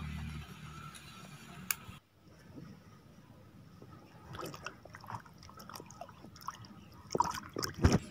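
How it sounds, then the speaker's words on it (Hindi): A peeled eggplant being washed in water, with faint, intermittent sloshing, dripping and trickling sounds close by, growing splashier toward the end. "छिलका उतार के इसको पानी के अंदर धो लें।"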